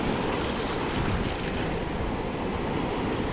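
Steady broadband wash of sea waves, continuous and fairly loud, with wind noise blended in and no distinct breaks.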